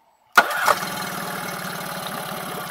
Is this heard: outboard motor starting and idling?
yes